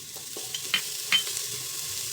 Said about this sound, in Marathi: तेल थोडंसं मिनिटभर परतून घ्यायचे आलं लसूण पेस्ट